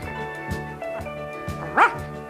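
A dog barks in a cartoon scene, four or five evenly spaced sharp woofs at close range, ending with a higher yelping note.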